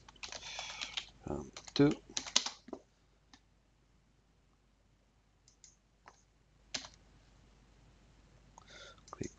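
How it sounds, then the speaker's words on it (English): Computer keyboard typing in short bursts of quick clicks, with pauses between runs and a whispered voice briefly present, close and fairly quiet. "we will write them like this"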